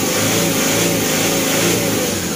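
A car engine, treated with an anti-smoke additive, runs loud and close in a continuous raised roar, held at high revs without letting off, with no talk over it.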